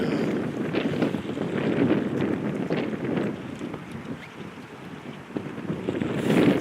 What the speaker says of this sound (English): I'm getting a lot of wind off this lake